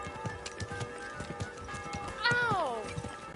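In a medieval role-playing game, hooves clip-clop in a steady rhythm before a horse lets out a clear, descending whinny partway through, with a voice speaking lightly underneath.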